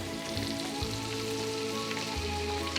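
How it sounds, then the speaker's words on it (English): Butter sizzles and crackles steadily on a hot grill, a soft continuous frying hiss with faint low hum beneath, no voices. "And I'll let it grill from down to up to the center, and putting some butter"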